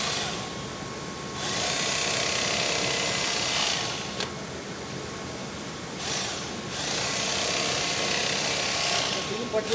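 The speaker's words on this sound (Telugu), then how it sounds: "అది సీల్ ఎలా వేస్తారు మిషన్ తోటి" An electric sewing machine stitching a rice sack shut at a rice mill, running in two loud sustained bursts with a pause between, while a person talks over the machine noise.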